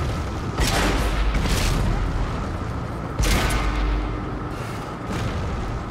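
Tank cannons firing in World of Tanks on Xbox One: a few heavy, booming shots spaced seconds apart over a constant rumbling background.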